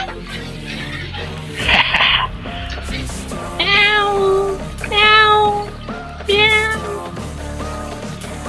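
Cats gathered near a biryani pot at a street stall meow repeatedly, three or four drawn-out cries over steady market bustle and background noise.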